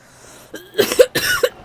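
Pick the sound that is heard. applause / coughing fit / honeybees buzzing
coughing fit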